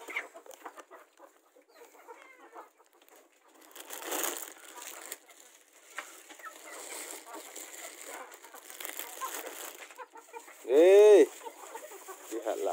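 Chickens around a house shared with cats and dogs give sparse, scattered clucks amid rustling and knocking, with one sharp, loud, drawn-out call standing out near the end.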